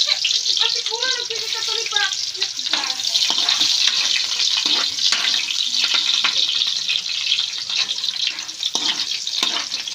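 Chopped onions frying for pancit give a steady, close hiss of sizzling oil, broken by soft clicks and scrapes of stirring, with a brief faint voice near the start.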